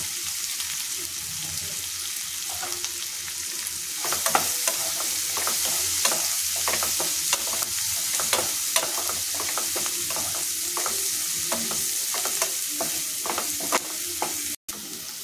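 Chopped onion frying with turmeric and asafoetida in a pan for okra bhaji, a steady loud sizzle under repeated scrapes and clinks of a stirring spoon, close and continuous without speech.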